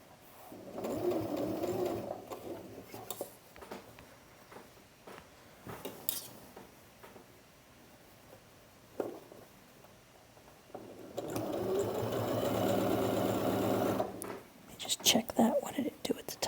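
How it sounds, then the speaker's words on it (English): A domestic sewing machine stitches over a garment's shoulder seam in two long, steady whirring runs, with soft quiet talk between them and handling noises. "The machine didn't want to quite go over the shoulder seam."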